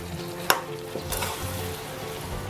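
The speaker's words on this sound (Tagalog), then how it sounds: "Halu-haluin lang. Para ma-mix lahat ng ingredients." Pinakbet vegetables stirred in a pan over low fire, with a steady close sizzle of frying broken by a few sharp scraping clatters of the utensil against the pan.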